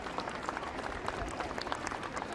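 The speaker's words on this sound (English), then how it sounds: "give them big applause" Crowd of children and parents applauding at a Take Your Child to Work Day event at the White House, a steady dense patter of clapping lasting the whole moment with no voices over it.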